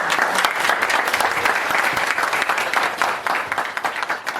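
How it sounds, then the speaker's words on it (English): An audience at the Ministry of the Future 8th anniversary event at Paloma applauds Namibia's Deputy Finance Minister, producing a loud, dense and continuous wash of clapping that only starts to thin toward the end. "Let's give her a round of applause"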